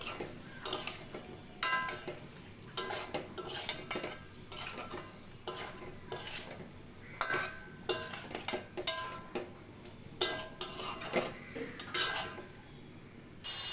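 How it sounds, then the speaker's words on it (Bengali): A spoon stirs chicken and papaya in a pot for an oil-free curry, making repeated metallic scrapes and clinks in an irregular rhythm, close and fairly quiet, with no voices. "এবার পেঁপেগুলো দিয়ে আমি আবারও কিছু সময় নাড়াচাড়া করবো"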